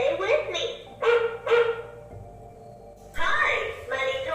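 A smart RC robot police dog toy barks in synthetic electronic yaps, a quick pair, another pair, then a longer bark after a short silence, loud and close.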